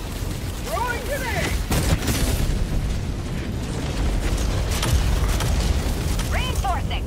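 A grenade explodes in a video game as a single burst partway through, set within a dense, busy wash of mechanical combat noise and chirping effects, with voices in the background.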